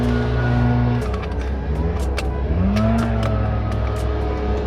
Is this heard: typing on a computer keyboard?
no